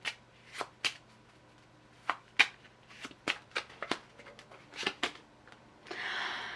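Tarot cards being shuffled by hand: a run of sharp, close riffling snaps and flicks at uneven intervals, ending in a brief continuous rustle of cards sliding together, with no talking.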